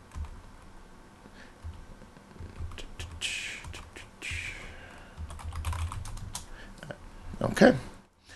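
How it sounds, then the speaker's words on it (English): Typing a program on a Commodore 64 keyboard, a quiet patter of keystrokes in irregular bursts with a few louder clacks, faint room noise behind and a soft vocal sound near the end. "I'm going to type a little program."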